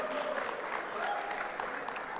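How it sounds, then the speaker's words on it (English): A crowd at a WordPress conference applauds with dense, continuous clapping, moderately loud, filling a large room without pause. "Round of applause, please."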